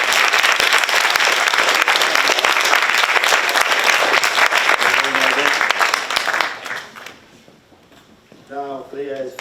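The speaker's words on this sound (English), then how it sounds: "Let's give our two runners up and a big round of applause" A crowd at a school awards ceremony claps loudly for two runners-up, a thick wash of hands that fades out after about six seconds, followed by a short stretch of talking.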